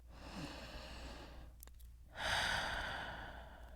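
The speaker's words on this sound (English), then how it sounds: "Let's take a deep breath." A slow, deep breath, drawn in softly for about two seconds, then let out as a louder, breathy exhale, close and alone in a quiet room.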